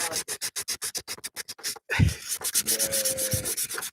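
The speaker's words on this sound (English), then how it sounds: "He used the scuff pad to do that." A scuff pad is rubbed over a glued surface on a blaster build, producing quick rhythmic back-and-forth scrubbing strokes, close and even, that give way to rougher, irregular rubbing noise.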